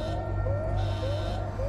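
A blaring emergency alarm from the Alien Isolation video game sounds continuously, with a steady buzzing tone and repeating rising sweeps, at a constant moderate loudness with no voices.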